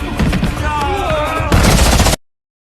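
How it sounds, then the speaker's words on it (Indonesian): Gunfire from an action film shootout: a rapid burst of loud, close shots over music and effects, ending in a heavier, denser volley before it cuts off abruptly. "dan baku tembak pun terjadi."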